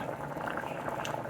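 Macaroni boils in a pot of broth on a home stove, a steady close bubbling and fizzing of liquid with no voices.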